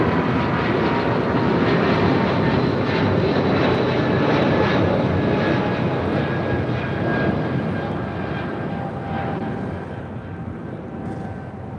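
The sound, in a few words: United Airlines Boeing 777-200ER jet taking off at LAX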